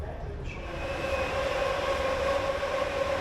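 A diesel locomotive hauls a passenger train steadily nearby on the Bishkek to Astana line, with a low rolling drone and a faint high metallic whine that rises partway through.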